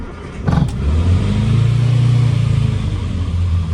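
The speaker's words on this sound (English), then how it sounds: "let's start the car" A 1966 Morris Minor car engine cranks briefly and catches, then settles into a steady, close, loud idle with a low throbbing rumble.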